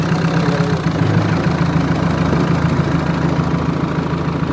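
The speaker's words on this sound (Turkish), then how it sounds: "motorumuz zırı zırı tek marş" A tow truck's diesel engine idles steadily right after starting, a loud, continuous low rumble with a faint knocking pulse, running alone with no voices.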